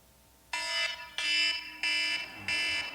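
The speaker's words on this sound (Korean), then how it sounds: "제 알람 소리는" A pastor's alarm clock going off: four loud, evenly spaced electronic beeping bursts, each a harsh buzzing tone, with brief gaps between them.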